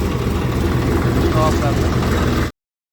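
A Punjab 855 diesel tractor idles at an Indian Oil petrol pump with a steady, loud, throbbing low rumble that carries on without a break and then cuts off sharply; a voice may be faintly present.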